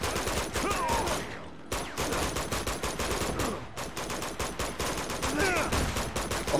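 Rapid bursts of gunfire from a PS3 Uncharted 2 firefight, dense overlapping shots and automatic fire running almost continuously, loud and close, with a short lull near the two-second mark.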